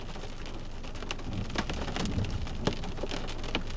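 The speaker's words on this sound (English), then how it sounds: "I think that's rain or hail, I can't tell. It looks like mostly rain, less hail." Heavy rain mixed with some hail during a massive thunderstorm in Edmonton, Alberta, a dense steady roar of drops with sharp scattered pings and taps standing out close by.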